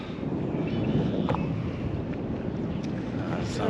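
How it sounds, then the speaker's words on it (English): Steady breeze buffets the microphone on a pier in Florida, a continuous low rumbling wind roar with a few faint ticks and knocks over it. "It's got a nice breeze."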